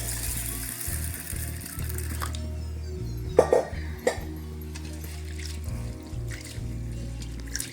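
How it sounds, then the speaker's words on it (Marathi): Lentils (dal) being washed in water for a village-style raw mango dal give soft trickling, squishing and sloshing sounds, with a few sharper splashes, over a low steady hum. "मग त्याच्यात डाळ धुवून टाकू"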